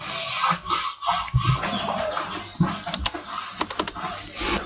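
Fingers type on a computer keyboard while filling in an online apprentice recruitment application form, with irregular bursts of close, crisp key clicks and brief pauses between them, no talking.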